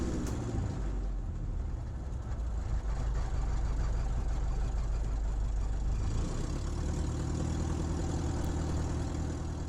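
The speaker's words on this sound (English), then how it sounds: "I'm going to pull back the throttle to make sure that the engine doesn't stop at low power." A Falco F8L light aircraft's engine idles at low power after the throttle is pulled back, giving a steady, low rumbling drone heard from inside the cockpit, continuous with no talking.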